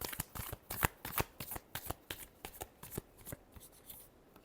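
Tarot cards are shuffled by hand in a quick series of crisp riffling flicks and soft slaps, close and alone, with the rhythm slowing and fading toward the end.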